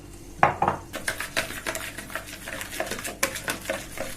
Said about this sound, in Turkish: Evet güzelce bu şekilde karıştırıyoruz.